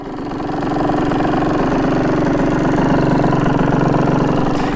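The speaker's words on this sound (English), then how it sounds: "Straight running bike." A dirt bike engine runs steadily at a construction site, a loud continuous rumble that swells slightly in the first second and then holds an even, throbbing idle-like drone with no voices over it.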